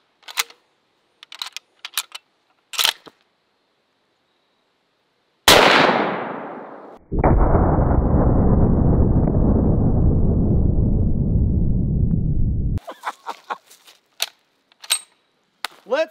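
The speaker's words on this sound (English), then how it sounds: "now I'm going to take a shot at it with the 458 lot" A single booming .458 Lott shot from a CZ550 bolt-action rifle firing a 500-grain brass solid, a sharp crack followed by a long, loud rumbling roar, set between quiet sparse clicks before and after.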